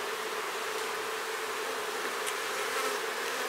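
A dense, steady drone of many honey bees buzzing close by around an open hive, continuous and loud without pauses.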